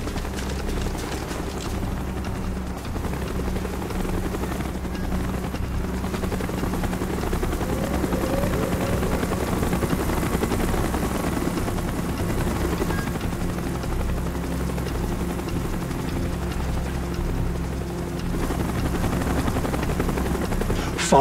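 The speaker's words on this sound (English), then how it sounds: "Chopper's inbound! Move it!" Military helicopter in the Call of Duty Black Ops game, its steady rotor drone approaching and holding loud and close throughout, with faint distant gunfire mixed into the background.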